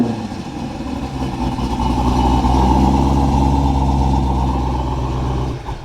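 A Dodge Challenger SRT Super Stock, the 980 hp version, sits after a remote start, its engine giving a loud, steady, deep rumbling idle up close for several seconds.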